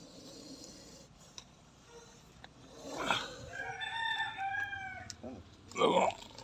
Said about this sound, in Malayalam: ഒരു കോഴി